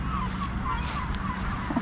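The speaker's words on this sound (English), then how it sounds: "Listen to these gulls here." Gulls call in the gray evening outdoors, with a few faint, drawn-out cries rising over a low, steady rumble of ambient noise.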